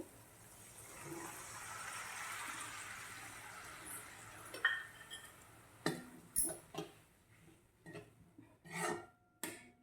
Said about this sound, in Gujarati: હવે આપણે આમાં અડધી વાટકી જેટલું પાણી નાખી દેવાનું છે